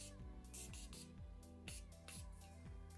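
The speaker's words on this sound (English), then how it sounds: "use your setting spray again" Makeup setting spray mists onto a face in a quick series of soft, faint hissing bursts, several short pumps in a steady rhythm with no talking.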